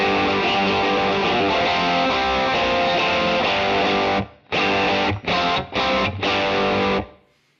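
Heavily distorted electric guitar through a Fractal FM3 preset with corrective EQ, a loud sustained chordal wash with chorus shimmer, then several short stabbed chords before ringing out.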